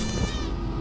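A cat meows continuously in the video game Stray, a close, sustained whiny cry with no talking over it.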